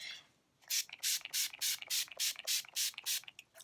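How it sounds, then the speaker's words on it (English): A series of about ten quick, even hisses from an Urban Decay All Nighter makeup setting spray pump bottle, close and fairly soft, with short pauses between them. "I'm going to spray with a little bit of makeup setting spray"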